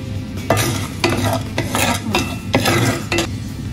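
Peppercorns dry-roast over low heat in a pan, with rhythmic scraping strokes of a spoon stirring them, about six sweeps over a soft continuous hiss.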